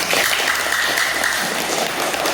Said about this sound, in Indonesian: Tepuk tangan lagi untuk Asmi